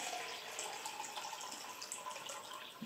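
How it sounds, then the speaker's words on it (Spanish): Water filtered through a pitcher being poured, a steady faint splashing hiss running unbroken throughout with no talk. "Así que vamos a primero a echar el agua"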